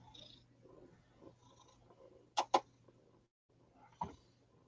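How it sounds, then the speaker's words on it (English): A short-haired cat purrs softly and steadily while being petted, with a few sharp handling noises and rustles breaking into the quiet, close purring. "We got the kitty cat. He goes, just pet me."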